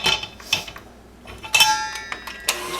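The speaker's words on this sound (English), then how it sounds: "just mix that in a little" Cocoa powder being mixed into brownie batter in a bowl, heard as intermittent clinks and taps of a utensil against the bowl with quiet gaps between strokes.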